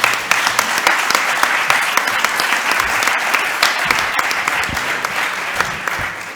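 Conference audience at a logistics congress applauds an organizer with steady, dense clapping that fills the room, loud and continuous with a few sharper claps standing out.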